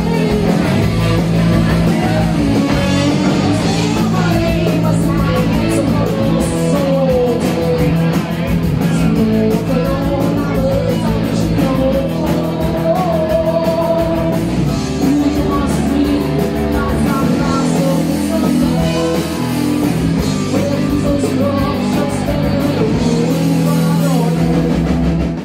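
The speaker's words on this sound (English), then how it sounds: "it was a fantastic punk rock show, very guitar driven" Screaming Females play a live punk rock concert, a dense, loud, guitar-driven wall of distorted guitars, drums and vocals that runs continuously throughout with no breaks.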